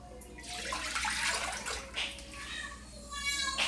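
Four cups of whole milk pour into a cooking pot, a steady liquid splash that swells and fades in bursts over a low background hum.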